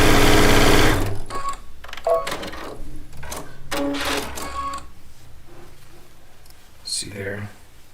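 A sewing machine stitching nested seams on a charm pack quilt block runs loud for about a second, then stops, leaving scattered clicks and handling sounds of fabric and the machine.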